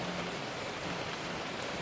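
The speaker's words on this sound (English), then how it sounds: "so we've got a lot of rain" Steady rain falls in a small garden behind an old house, a dense, continuous hiss of drops that stays even and fairly loud throughout, with no voices.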